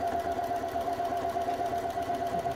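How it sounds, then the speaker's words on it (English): Sewing machines run at a sewing group meeting at the Green Dragon, giving a steady, continuous mechanical whir with a constant hum, fairly close and unbroken throughout. "That's why you can hear voices in the background and sewing machines."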